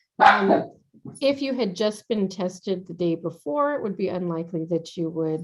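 A dog gives a short, sharp bark in the background of an online school board meeting, followed by a person talking steadily.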